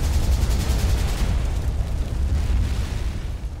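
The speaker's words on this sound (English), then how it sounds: "Then a loud series of explosions rocked the whole area." A dramatized battle scene with incoming rockets and heavy gunfire, where a series of explosions rocks the area: a continuous deep rumbling roar of blasts that stays loud and dense throughout, with no voices.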